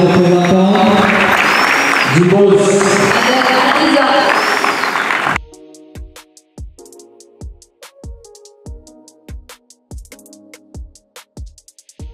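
An audience at a corporate prize event applauds for about five seconds, loud and dense, then cuts off abruptly. Sparse sharp percussive hits and tonal music follow in a steady rhythm.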